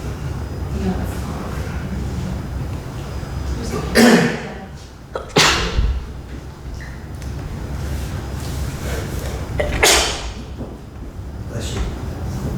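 A sharp, loud sneeze bursts out over a murmuring room during a council meeting, followed by a couple of softer thumps and shuffles; voices are faintly present in the background.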